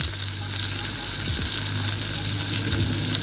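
Tenderloin steak sears in a hot pan with melted butter, giving a steady, loud sizzle and crackle throughout, with a few brief scraping stirs partway through and no voices.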